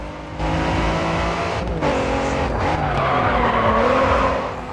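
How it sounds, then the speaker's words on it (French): Tires skid loudly in the racing video game Grid 2, a sustained screeching slide over a steady roaring car engine that shifts pitch, continuous and close, with no talking. "Ah, ça dérape."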